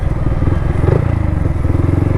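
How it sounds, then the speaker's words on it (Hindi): A Yamaha MT-15 V2 motorcycle exhaust roars loudly in fourth gear with a rapid, pulsing throb as the bike moves at speed, close and continuous. "जो साउंड आ रहा है एग्जॉस्ट का भाई"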